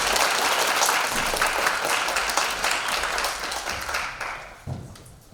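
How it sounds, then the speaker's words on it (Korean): Sustained applause from a seated audience at a university academic festival lecture, steady dense clapping that thins and fades toward the end with a brief bump just before it stops. "큰 박수 부탁드리겠습니다"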